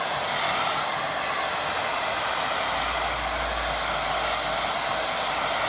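A hair dryer on low heat blows over a watercolour painting, giving a steady, loud broadband whoosh with a low hum that continues unbroken from start to finish, with no talking.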